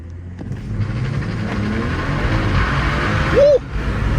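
A stock car accelerates hard during a launch, its engine roaring loudly and steadily building, with a brief squeal near the end.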